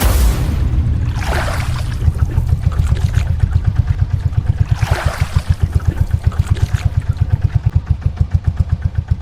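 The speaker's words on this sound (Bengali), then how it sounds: "এই বোট ছাড়ো।" Cartoon boat motor idling steadily on a jungle river in the Sundarbans, a loud continuous low chugging with a regular pulsing rhythm and occasional whooshing swells, no talk over it.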